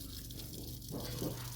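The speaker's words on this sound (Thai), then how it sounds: "ก็เปิดก๊อกน้ำไว้นี่ก่อนนะครับ" Water runs from an opened tap on a village mains pipe, a steady low gushing flow close by that swells slightly louder toward the end, with no talking.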